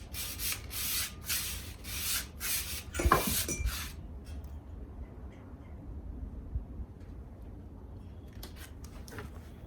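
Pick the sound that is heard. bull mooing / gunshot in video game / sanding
sanding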